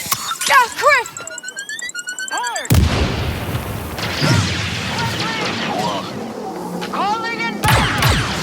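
A grenade goes off during combat in Star Wars Outlaws: a sharp, loud blast cuts in after shouting voices, followed by a lingering rumble with more shouts and gunfire over it.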